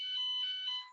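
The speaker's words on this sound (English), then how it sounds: "that's the fire alarm" A fire alarm sounds during its weekly test, a steady, shrill electronic tone with pulsing overtones lasting about a second before cutting off, close and loud.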